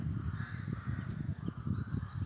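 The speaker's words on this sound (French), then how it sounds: "Des nids de corbeaux. La forêt aux corbeaux." Several crows caw repeatedly from a forest of crow nests high in the trees, the harsh calls layered over a low rumbling background and fairly distant, with no talk.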